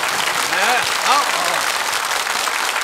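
The studio audience of a KBS family game show claps in a dense, steady burst while a host's voice talks over the applause.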